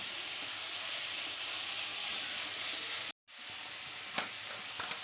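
Chopped vegetables for spring roll filling stir-fry on a high flame, giving a dense, continuous sizzle and hiss that breaks off briefly and then resumes with a few sharp clicks of stirring.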